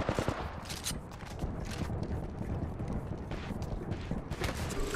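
Continuous gunfire in the Apex Legends shooter, a dense, loud stream of rapid shots and impacts with scattered sharper cracks, mixed with game effects throughout.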